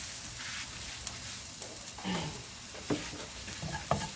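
Garlic stir-fries in chili oil for braised potatoes, with a soft, steady sizzle under occasional spatula scrapes and clinks, close but fairly quiet.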